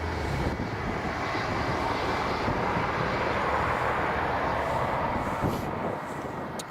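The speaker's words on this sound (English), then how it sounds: "Looks like we've got an Aer Lingus on the move here." An Aer Lingus airliner moving at Dublin Airport produces a continuous broad jet-engine roar at middle distance. The sound stays steady and swells slightly before easing near the end, with no talking.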